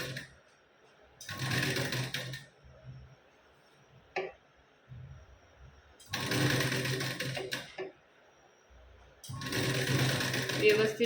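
Bursts of a sewing machine running while stitching a blouse sleeve seam, loud and close, alternating with stretches of someone talking between the runs.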